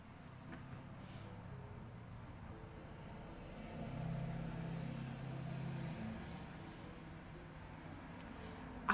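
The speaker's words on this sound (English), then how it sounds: "sorry for car sounds" Road traffic heard through an open window, a steady low rumble with a car swelling past in the middle before fading back to the quiet background hum.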